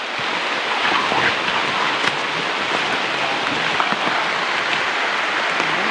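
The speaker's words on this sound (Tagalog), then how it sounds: "umuulan na." Rain falls steadily outdoors at a site where a cement pathway is being poured, a dense, continuous hiss of drops that stays even and fairly loud, with no talking.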